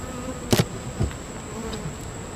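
Honeybees buzz steadily in a close, constant hum around a hive super at honey harvest, with a couple of brief louder passes as insects fly near.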